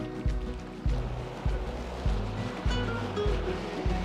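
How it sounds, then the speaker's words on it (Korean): Glacier meltwater pouring down into a lake in Switzerland, a steady rushing wash of water with rhythmic low surges roughly every half second, close and continuous. "이쪽에서도 물이 내려와요 이게 우리가 아까 봤던 그 빙하가 녹아가지고 이렇게 내려오는 것 같아요"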